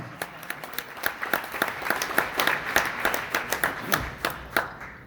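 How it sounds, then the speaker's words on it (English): Applause from an audience at a Black excellence awards ceremony, steady clapping from many hands sustained throughout at moderate loudness with no talking. "Give yourself a round of applause."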